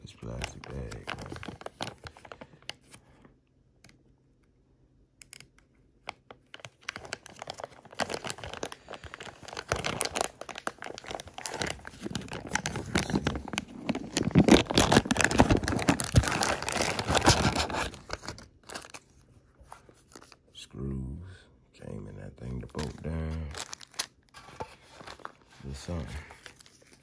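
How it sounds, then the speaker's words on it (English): A plastic bag holding a fuse box for off-road vehicle lights crinkles and rustles in bursts, loud and close, starting and stopping across a long stretch with a quiet pause early on. "See if I can get inside this plastic bag,"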